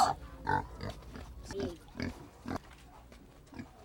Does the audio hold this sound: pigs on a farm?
yes